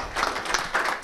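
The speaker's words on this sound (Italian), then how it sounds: "Accogliamo con applauso il nostro coach." An audience claps to welcome a coach at a presentation event, a dense patter of hands sustained at moderate loudness for about a second with no speech over it.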